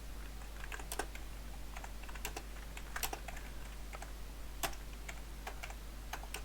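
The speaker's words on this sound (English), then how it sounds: "Why is it so hard for me to type?" Rapid, irregular clicking of keys on a computer keyboard during a hacking exercise, with clusters of sharp taps, brief pauses and close, moderate loudness, and no talking.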